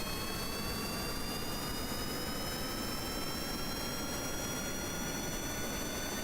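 Rocket engine roaring at full throttle in the Kerbal Space Program video game, a steady, loud, dense roar with a faint rising whine, continuous throughout with no talk.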